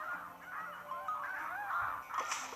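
Seagulls in the mobile game Plants vs Zombies 2 cry in a flurry of overlapping, wavering calls, fairly faint under steady game background noise, with a brighter burst near the end.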